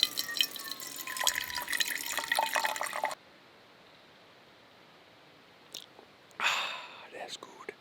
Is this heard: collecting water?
yes